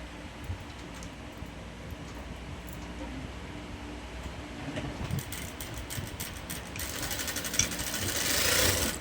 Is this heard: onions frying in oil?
no